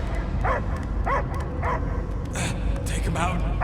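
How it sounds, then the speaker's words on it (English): A dog barks a few times in a video game, the Marvel's Guardians of the Galaxy adventure, each short yelping bark standing out over a steady game soundscape with a voice speaking in between. "I hear only barking."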